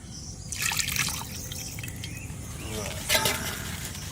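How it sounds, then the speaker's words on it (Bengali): Water is poured into a spice paste for a rural Bengali steamed koi fish dish, giving a close splashing trickle in two bursts with faint voices in the background. "একটু জল দিতে হবে ওই যে মশলা মাখাইছি না ওই জলটা দিয়ে দেবো"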